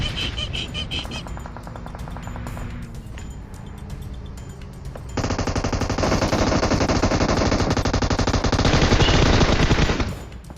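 Automatic gunfire in the video game PUBG Mobile rattles in dense rapid bursts, first moderate and then a loud, sustained close-range stream lasting several seconds before cutting off.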